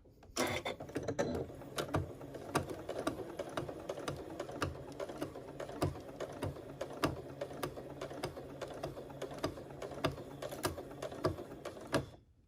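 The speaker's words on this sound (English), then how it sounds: "Here we are at the sewing machine, and I am just going to stitch" A sewing machine with a 1/4 inch foot stitches down the side of a zipper, its rapid mechanical stitching clatter continuous and close, with a brief start at the beginning and stopping near the end.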